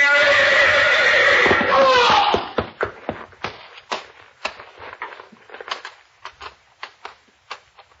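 A horse whinnies loudly up close in a radio drama stable scene, followed by a series of sharp hoof knocks and clatters spaced irregularly as it shifts about.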